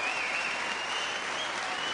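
A boxing arena crowd applauds as an injured boxer is carried out on a stretcher, a thick, steady wash of clapping with a faint tone running through it.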